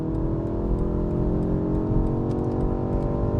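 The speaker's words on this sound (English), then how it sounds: "Of course, I can use the boost mode as well. 10 seconds of additional power." A 2024 BMW 1 Series accelerates in boost mode, its engine holding a steady, close, continuous drone with a layered whirring tone and road noise throughout.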